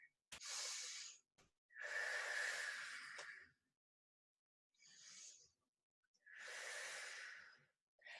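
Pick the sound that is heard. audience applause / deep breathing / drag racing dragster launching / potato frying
deep breathing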